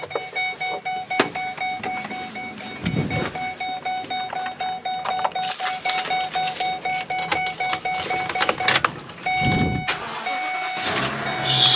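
A 2014 Forest River Sunseeker 3010DS Class C gas motorhome engine cranks and starts, settling into a low idle with chiming dashboard alert tones and a few clicks and thumps nearby.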